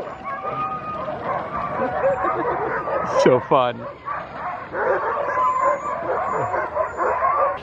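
Several sled dogs bark and yip excitedly nearby before a run in Alaska, with one sharp whining howl in the middle; a person speaks briefly over the noisy pack.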